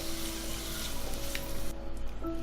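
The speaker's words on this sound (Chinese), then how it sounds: "然后再把玉米跟那个胡萝卜放进来炒， 再加一点点盐，炒熟了就可以。" Corn and carrots stir-frying with a little salt in a hot pan give a steady, close sizzle that stays even throughout, with no talking.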